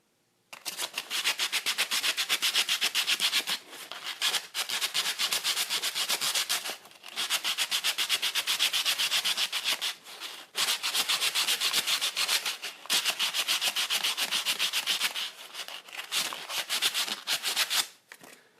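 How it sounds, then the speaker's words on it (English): Rhythmic back-and-forth scraping of hand sanding on a wooden fidget spinner, close and steady, continuing in long strokes with a few brief pauses. "so obviously I'd need to do a lot more sanding on this"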